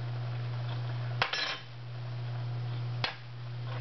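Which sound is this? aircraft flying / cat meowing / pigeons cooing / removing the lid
removing the lid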